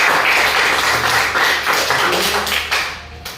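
A classroom group of students applauds, a dense, loud burst of clapping that keeps going steadily before tapering off near the end.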